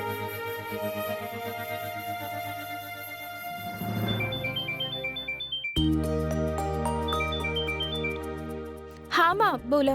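A melodic ringtone plays, then repeats as a brighter tune, with a voice speaking over the end.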